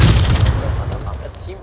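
A grenade explodes in a competitive video game match, a loud, close boom with a rumbling tail that fades over about a second and a half; a caster's voice sits faintly in the mix.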